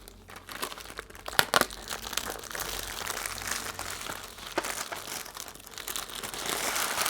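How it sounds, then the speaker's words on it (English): Plastic wrapper on a pack of colored pencils crinkles and crackles continuously at close range, with a few sharper crunches, no voices. "Get that wrapper out of the way. Ooh, that was loud."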